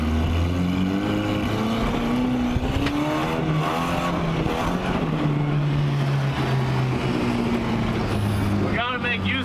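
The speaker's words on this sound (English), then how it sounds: "Sometimes you just gotta let loose in the Volvo." A Volvo car drives hard and revs, its engine pitch rising and falling in loud, continuous sweeps, with a voice briefly audible over it.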